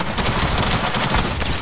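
Rapid gunfire from a weapon in the video game Fortnite, a fast stream of close, loud shots with little pause and no talk over it.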